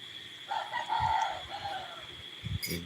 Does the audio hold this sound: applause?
no